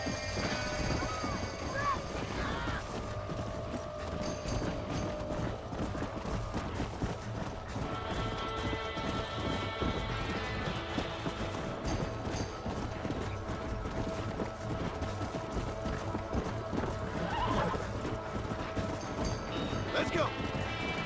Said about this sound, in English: Hey, the stallion's getting away. Chase him down and bring him back.